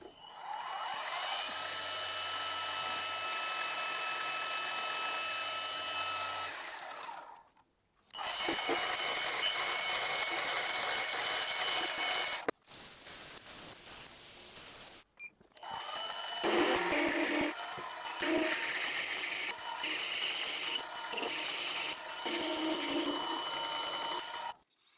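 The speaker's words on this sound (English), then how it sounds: "Plan B, I've put the plug in from the rear, so the drill is pulling it in." A drill runs in bursts while pulling a plug into the hole of a tool-grinder base casting, whining steadily with pitch shifts between runs, brief stops and clattering mechanical rattles toward the end.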